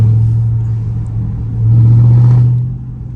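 Catless Dodge Scat Pack in track mode, its engine rumbling deep and loud at close range, swelling into a stronger rev midway before settling back, with no talking.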